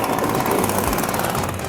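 An Echo PB 250LN gas-powered leaf blower idles with a loud, steady, buzzing rattle of its small engine, close by and unbroken. No one speaks.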